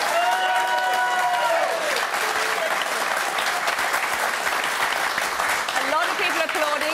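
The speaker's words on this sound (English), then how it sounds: "A lot of people applauding, a lot of people sitting on their hands" A television studio audience at a political debate show breaks into loud, sustained applause, with a voice briefly audible at the start and again near the end.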